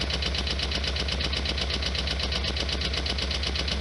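A 1991 Lotus Elan engine idles while warming up, a steady, even mechanical hum with a fast rhythmic pulse, close and constant, with no voices.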